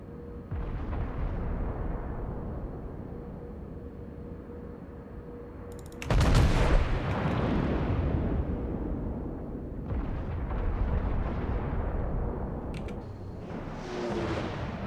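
Main guns of the Iowa battleship firing in World of Warships, booming volleys each followed by a long rolling rumble, with a particularly big blast about midway and further heavy reports later, loud with no talk.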